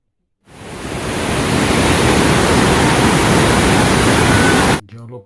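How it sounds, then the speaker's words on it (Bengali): Water roars over Hogs Back Dam in Ottawa at night, a loud, dense, continuous rush that swells in within the first second and cuts off abruptly near the end. "জলপ্রপাতের আওয়াজ বয়ে যাচ্ছে ঝমঝম করে।"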